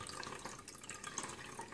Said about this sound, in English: It's just slowly pouring some of this water off into the jug with the paper towel and the rubber band on it.